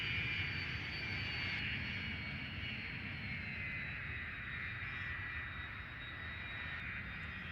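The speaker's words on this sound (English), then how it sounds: "there's actually planes landing here" Airplanes landing at an airport in the Cities: Skylines game, a steady droning jet-engine roar with a high whine held evenly throughout, moderately loud with no talking.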